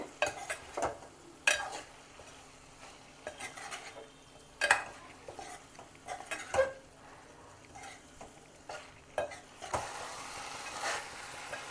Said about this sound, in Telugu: ఇది కలిపేసుకోవాలి కాస్త ఫ్రై అవనివ్వాలి